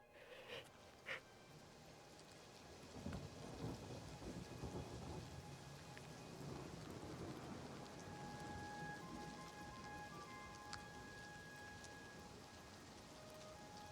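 A thunderstorm in Oblivion brings steady rain with scattered drips and taps, while low rolling thunder swells through the middle of the scene and then fades.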